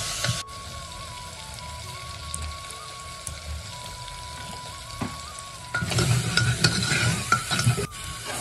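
Chopped tomatoes with kitchen masala cooking in a pan, a soft steady sizzle with faint stirring taps that swells into a louder, busier bubbling crackle in the last few seconds, close by with no talking.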